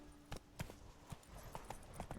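Roach, the horse in The Witcher 3, gallops with a steady clip-clop of hooves, soft and even, under a low game ambience with no talk.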